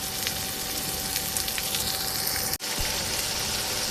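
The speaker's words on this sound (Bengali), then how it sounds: "সব মশলা দিয়ে কষাইতে থাকি" Spices being cooked down in hot oil in a pan, a continuous dense sizzle with a faint steady hum underneath and a momentary dropout midway.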